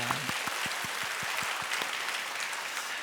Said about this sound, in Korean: 우리 미취학 부서를 섬겼던 우리 교육자들, 교사들에게 또 감사의 박수 한번 할까요?